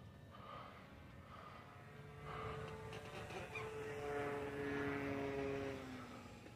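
A Carbon Cub S+ airplane takes off under propeller power, its engine drone steady and then climbing in pitch and growing louder as it accelerates, with no talking.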